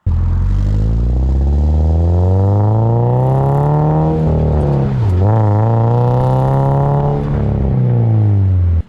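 A 2022-or-later Subaru BRZ / GR86 with an aftermarket catback exhaust drives past, its engine note loud and steady with rising and falling revs throughout, close up and with no talking.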